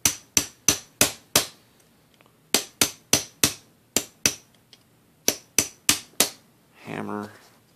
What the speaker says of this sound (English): Now you get your punch in the indented side of the pin.